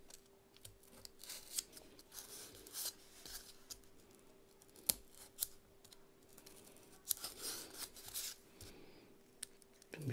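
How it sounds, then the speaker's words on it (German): Scissors snip and rasp through material for a model railway building, a quiet, close series of short cuts and rubbing scrapes with small pauses between strokes. "Dann müssen wir auch von der anderen Seite ein bisschen schneiden."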